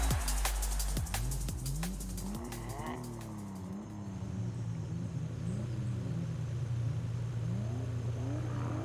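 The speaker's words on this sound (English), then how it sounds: "Maybe I'm just not revving high enough that the VTEC can kick in." A car engine in the Forza Horizon 5 racing game revs repeatedly, pitch climbing and dropping through several gear changes with a steady loud rumble, near and continuous, with a faint voice underneath.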